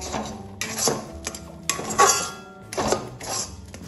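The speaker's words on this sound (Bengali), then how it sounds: "এইভাবে 5 থেকে 7 মিনিট আমি এটা তেলের সাথে নাড়াচাড়া করে নেব" A spatula scrapes and clanks against a pan in short repeated strokes as a green-pea filling with salt, pepper, coriander and cumin powders is stirred in oil, with brief pauses between the close, metallic bursts.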